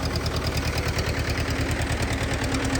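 A Zetor 1811 tractor engine idles up close, a steady, rhythmic diesel chug with a low throb and a slight knock, running alone without any talk.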